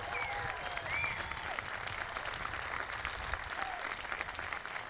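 Audience applause at the inauguration of a university president, a continuous, even patter of many hands clapping with faint crowd murmur underneath.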